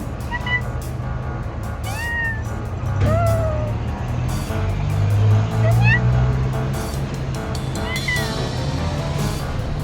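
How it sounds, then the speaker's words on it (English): A cat meows several times in short rising calls, close by, over a steady hum of passing road traffic and vehicle engines along a motorbike tour route in Chiang Rai. "The cat was so cute,"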